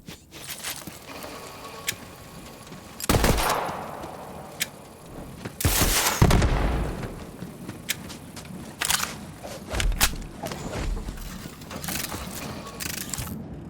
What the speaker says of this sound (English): some guns now include an alternate shooting mode. Try it out.